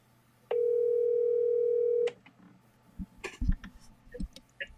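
A steady telephone dial tone hums for about a second and a half as a call is placed, clear and alone, followed by rustling and handling noises.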